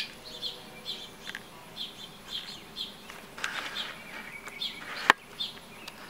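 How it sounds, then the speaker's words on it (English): Small birds nesting in a fern give repeated high, thin chirps in a steady series, fairly faint and outdoors amid insect buzzing, with one sharp click near the end. "There is a nest of some kind of bird."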